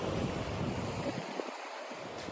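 Sea waves washing onto a quiet beach in Siquijor at low tide, a steady broadband surf wash with wind noise buffeting the microphone, continuous and fairly close, no voices.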